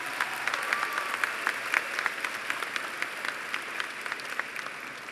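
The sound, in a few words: graduation audience applause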